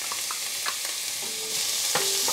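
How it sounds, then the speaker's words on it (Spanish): Chopped onion sautéing in olive oil in a hot pot, with a steady soft sizzle broken by several stirring scrapes and clinks. The frying grows slightly louder near the end, and no one speaks. "Agregamos la cebolla bien picadita hasta acitronar."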